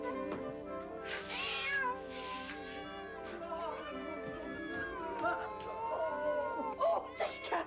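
A wet cat meows repeatedly, several drawn-out, wavering cries rising and falling over roughly eight seconds, fairly close and moderately loud, with a few sharper bursts near the end.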